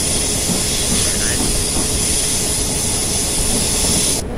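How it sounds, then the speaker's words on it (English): An 8-car electric passenger train in Train Simulator 2018 on the Portsmouth Direct Line approaching Waterloo, giving a steady, loud rolling rumble with a constant high whine and hiss throughout, no talk. "we're driving an 8 car train, so not too long"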